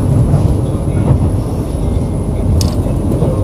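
A KRL commuter electric train runs through Bekasi station, a steady low rumble and rolling rail noise holding throughout, with a brief brighter squeal near the end.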